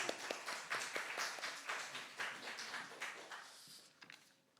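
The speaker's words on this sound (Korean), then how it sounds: "박수로 맞이하겠습니다" A church congregation claps to welcome a pastor, a fairly quiet run of rhythmic, evenly spaced claps that gradually thins out toward the end.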